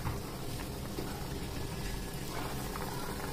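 Farali chakli lowered into hot oil gives a steady, close crackling sizzle that runs unbroken throughout, with no voices.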